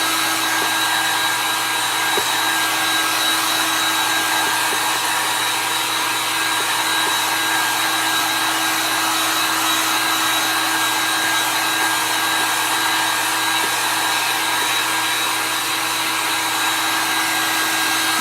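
A hair dryer blows steadily at close range over a layer of chalk art, a constant loud whirring hum that runs unbroken and alone.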